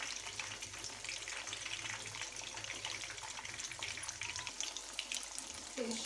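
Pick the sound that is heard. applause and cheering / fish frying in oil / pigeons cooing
fish frying in oil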